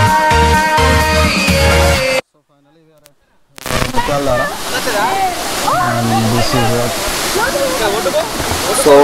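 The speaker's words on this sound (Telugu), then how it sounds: "ఫైనల్లీ మనం కొంగల వాటర్ ఫాల్స్ దగ్గరికి వచ్చేసాం" Kongala waterfall roars as a broad, continuous wash of rushing water, with a brief silent break early on. Voices and other sounds come through over the steady flow.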